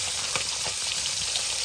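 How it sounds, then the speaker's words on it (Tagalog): Steady hissing sizzle of tilapia frying in hot oil, with faint crackles popping through the noise. "Prito tayo ng tilapia."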